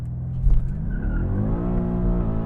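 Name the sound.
BMW M8 Competition doing a rear-wheel-drive burnout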